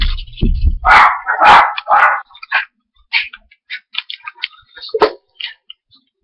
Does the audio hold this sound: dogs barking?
yes